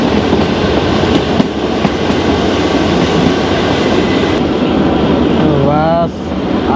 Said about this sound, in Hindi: ये ट्रेन की आवाज है ना अलग ही